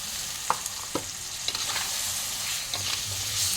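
Ginger paste and tomato paste fry in hot oil with a steady sizzle, broken by a few sharp scrapes and clinks of a spoon stirring the pan, close and fairly loud with no voices.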